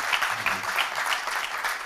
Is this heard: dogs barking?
no